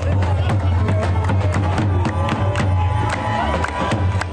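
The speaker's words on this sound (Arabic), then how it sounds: "لا صوت يعلو فوق صوت الجماهير العربية في الدوحة" Arab football fans crowd the streets of Doha at night during the Asian Cup, a dense, loud mass of cheering, chanting and singing voices with rhythmic claps or drumbeats pulsing through a steady low hum.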